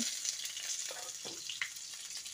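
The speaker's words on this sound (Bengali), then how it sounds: "যেদিকে পুর ভরা আছে সেই দিকটা নিচের দিকে দিয়ে তেলের মধ্যে দিয়ে দিতে হবে" Stuffed pointed gourds sizzle steadily in shallow oil in a pan, filled side down, with a continuous close crackle and occasional sharper pops.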